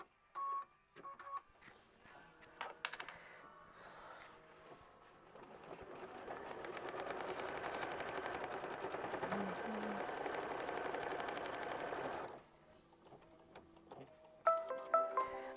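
Embroidery sewing machine stitching an outline on fabric, a steady fast mechanical whir running for several seconds between softer clicks and beeps at start and end.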